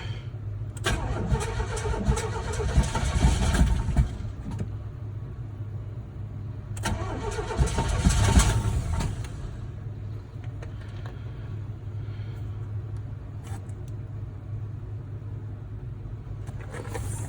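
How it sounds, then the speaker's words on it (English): An Oldsmobile Cutlass engine is cranked while the gas pedal is held down. There are two loud cranking bursts, then a rough, uneven idle or rumble carries on steadily at close range. "This time I'm going to hold the gas down when I start it."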